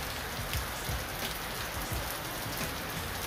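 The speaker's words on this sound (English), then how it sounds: "it's raining heavily." Heavy rain heard from a veranda pours down in a dense, constant hiss, with heavier drops knocking close by now and then, and no speech.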